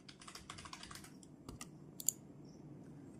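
Fingers type on a computer keyboard in a quick burst of close, quiet key clicks, followed by a few scattered taps.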